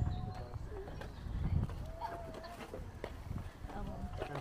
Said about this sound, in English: Horsey, horsey.